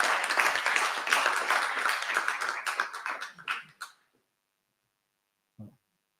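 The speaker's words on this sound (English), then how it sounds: "put your hands together in warm applause" An audience at an AI event applauds warmly, with dense, close clapping that thins into scattered claps and stops near four seconds, followed by a brief single knock or cough in the silence.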